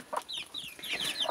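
A hen with her chicks clucks in short, close bursts outdoors, several quick calls in a row with no talking over them.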